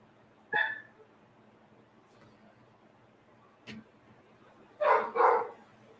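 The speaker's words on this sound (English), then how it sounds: "Dogs are barking." Dogs bark from somewhere nearby, one penned in a cage: a single sharp bark early, a faint one midway, then two louder barks close together near the end, over a quiet background.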